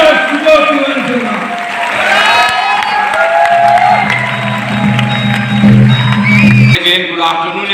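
An audience at a Rootpure training event in Patna gives a rousing welcome with clapping, cheering and whoops. The crowd noise swells and holds, and a steady low tone and talking voices sit underneath.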